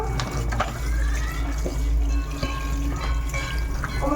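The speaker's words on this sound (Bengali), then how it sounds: "এই তাপস মাছগুলো ধুয়ে দিচ্ছে।" Fresh fish from a pond being washed in water, close sloshing and splashing with handling noises and water pouring in uneven bursts.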